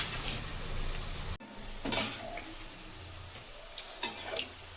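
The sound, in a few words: onions frying in a pan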